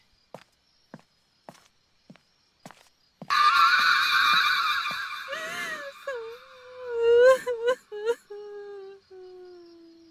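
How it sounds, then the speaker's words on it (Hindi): A wailing, broken cry of pain rises in a horror-story sound effect, preceded by several soft, evenly spaced footsteps, then a sharp burst of eerie noise giving way to a moaning, sobbing voice that trails off. "कहीं पास से रोने की आवाज आई,"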